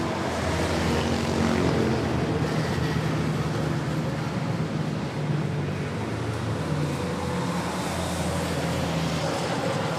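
An airliner takes off at Manila Airport, its jet engines a loud, steady broadband roar with a low rumble that holds unbroken for the whole stretch, close by and with no voices over it.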